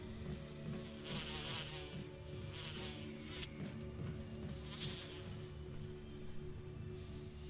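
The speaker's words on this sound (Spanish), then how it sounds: "Vamos a matar a las avispas." Wasps buzz in a Resident Evil game, several loud whirring swells passing close by in bursts over a low droning background, with no talk.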